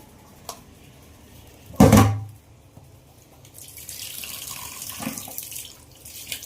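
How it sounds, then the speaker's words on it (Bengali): Chital fish gets washed under a running tap, with a short heavy splash of water followed by a steadier stream and some handling sounds, near and without speech. "রান্নার আগে মাছটাকে ধুয়ে নিই একটু"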